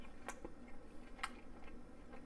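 Close, moist chewing of a bite of ground chuck with onion and butternut squash from a skillet, soft squishy mouth sounds with a few sharper crunchy bites over a low steady background, no talking.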